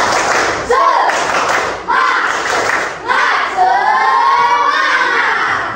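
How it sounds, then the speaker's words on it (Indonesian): A classroom of schoolchildren doing a rhythmic spirit clap, loud unison bursts of clapping and thumping in repeated phrases with the children chanting and shouting along, close and energetic. "Nah, tepuk semangat."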